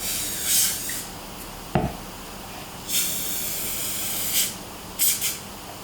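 Several short hissing bursts from an aerosol can, spaced irregularly, with a sharp knock partway through; fairly close and otherwise quiet.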